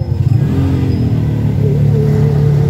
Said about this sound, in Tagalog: traffic dito sa gitna ng probinsya